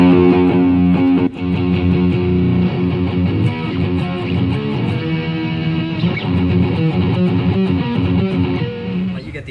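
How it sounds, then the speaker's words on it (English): Distorted electric guitar through an M-VAVE multi-effects looper pedal, playing a steady, loud, sustained run of chords and notes for the whole stretch with no voices. "You also got some cool distortion tones."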